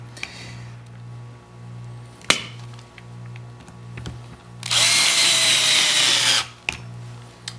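A power driver screws studs into the soles of fly fishing boots, with a brief high whirring burst of a couple of seconds, plus sharp clicks and taps around it, close and loud.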